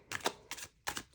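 Tarot cards riffled in a traditional shuffle, three quick papery bursts of flicking cards in close succession, near and fairly quiet with no talking.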